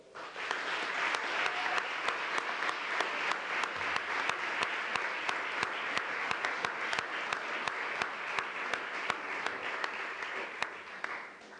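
A crowd down in the street claps continuously during a civic reception for the La Sirena CN Mataró senior women's team, producing a dense, steady patter of many hands heard from a distance with no voices over it.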